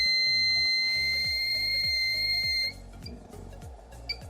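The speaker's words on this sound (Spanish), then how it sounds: "como que da algunos pitidos" Shrill electronic beeping from an inductive proximity sensor detecting a target at 21 millimetres: steady high tones that cut out partway, then scattered short chirps, over a rhythmic low mechanical thumping.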